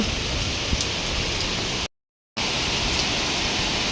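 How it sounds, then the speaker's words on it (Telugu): Heavy rain hisses continuously, broken by a brief moment of silence before the downpour resumes just as strongly. "బీభత్సంగా పడుతుంది వర్షం"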